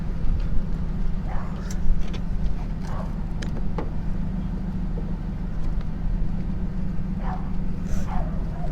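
Dogs bark and yip at intervals over a steady low rumble of an idling vehicle outdoors at night during a desert wildfire evacuation, the barks moderately close and scattered across the clip.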